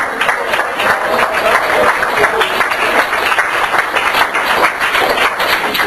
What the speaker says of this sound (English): I want you to give yourself a round of applause.